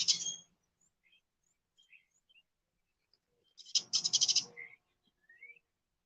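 Birds calling outdoors in a quiet natural setting: a sharp high call at the start, faint scattered chirps, then a louder burst of rapid repeated calls around the middle, followed by a few soft notes.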